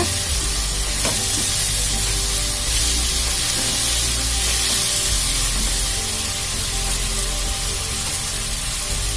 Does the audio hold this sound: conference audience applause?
no